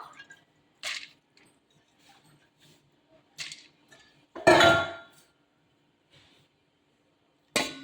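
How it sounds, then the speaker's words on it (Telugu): Soaked moong dal, split yellow lentils, tipped into a bowl in a home kitchen: a few faint clinks and taps, then one louder wet, squishy slide midway, with a last knock near the end. "దీంట్లో ఫస్ట్ పెసరపప్పు వేస్తున్నానండి"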